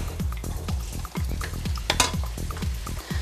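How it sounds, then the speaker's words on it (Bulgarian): Red onion cut into half-moons frying in heated olive oil in a pan. Steady sizzling runs under rhythmic, repeated scrapes and clinks of a utensil stirring close by. "В загрят зехтин първо ще сложа нарязаният на полумесеци червен лук"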